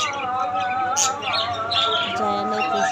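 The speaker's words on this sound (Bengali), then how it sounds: "দেখেন পাখিগুলো খুবই সুন্দর।" Small pet birds at a bird shop chirping close by, with overlapping quick tweets and short calls in a busy, continuous stream and a faint voice in the background.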